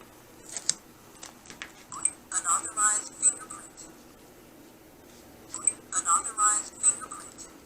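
Two bursts of bright electronic beeps and chirps from a DatoHome B400 smart door lock rejecting an unregistered fingerprint, separated by a pause, close and moderately loud.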